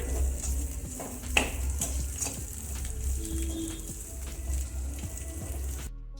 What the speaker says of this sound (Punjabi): ਪਿਆਜ਼ਾਂ ਨੂੰ ਆਪਾਂ ਜ਼ਿਆਦਾ ਨਹੀਂ ਭੁੰਨਣਾ ਸਿਰਫ 2 ਮਿੰਟ ਵਾਸਤੇ